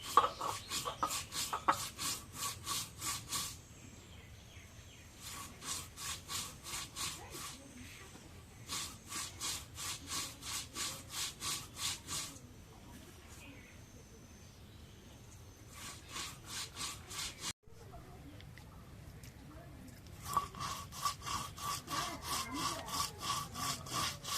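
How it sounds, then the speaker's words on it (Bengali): Cumin being ground by hand on a grinding stone, making repeated bursts of rhythmic back-and-forth scraping and rubbing, moderately close, separated by short pauses, with no talking. "এখন পরিমাণ মতো একটু জিরা বেটে নিই"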